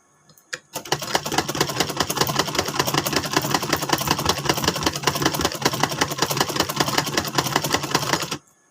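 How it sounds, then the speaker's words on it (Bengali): A home sewing machine stitching saree falls and side seams runs in a fast, steady, continuous rattle for about eight seconds after a brief start, close and fairly loud, with no talk. "তার জন্য বসে বসে এখানে সেলাই করছি"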